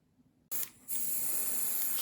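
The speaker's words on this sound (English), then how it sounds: "You'll see it as it comes out of the airbrush." Airbrush spraying paint onto grimdark zombie miniatures: a quiet lead-in, then a sudden sharp hiss that briefly dips and resumes as a steady continuous spray, close and loud.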